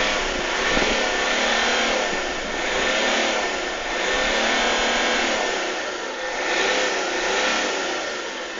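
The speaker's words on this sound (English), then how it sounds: "I think I'll give it a rev as well" A Range Rover on 22-inch Overfinch wheels revs its engine in several rising and falling surges, close and loud, over a constant rough rush.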